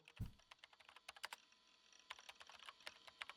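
Keyboard clacking from the visual novel Chaos;Head NOAH: quick, irregular bursts of key taps, soft and close, with a brief low thump near the start and no voices.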